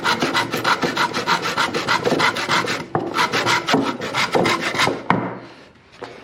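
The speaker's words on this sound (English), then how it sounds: "So I'm gonna do a couple backstrokes here. And then once I have my channel, then I can just start sawing it up." Handsaw cutting through a wooden rafter in quick, regular back-and-forth rasping strokes, loud and close, with a brief pause partway through and the sawing stopping near the end.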